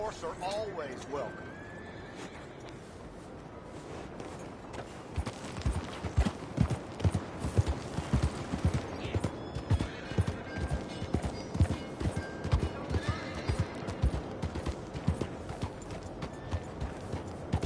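Steady clip-clop of horse hooves trotting at a regular rhythm in Red Dead Redemption 2, with game music and voices underneath; a whinny comes near the start.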